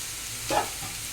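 Machine-cut cabbage drops into a hot pan and briefly sizzles, a single short burst of frying noise that swells and fades over a low background hum.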